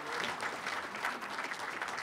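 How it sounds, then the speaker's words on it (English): Brief, faint applause from a conference audience for a panel on college affordability, a dense patter of clapping with no talking over it. "please give our panel another round of applause."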